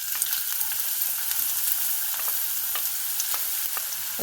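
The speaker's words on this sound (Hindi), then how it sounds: "प्याज को हल्का सा ही इसमें बस फ्राई करें कि इसका कलर चेंज करना है।" Chopped onion frying in lightly heated oil sizzles in a steady, close hiss, with occasional soft crackles and spoon scrapes. No voices.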